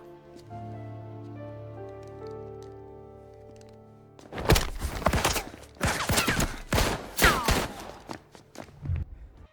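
A gunfire shootout in the video game Mafia Definitive Edition, with a cluster of loud, sharp shots and impacts in quick irregular bursts following a quiet musical passage.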